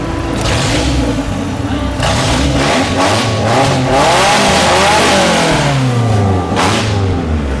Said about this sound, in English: it's loud because the exhaust is gone, but look how smooth that's running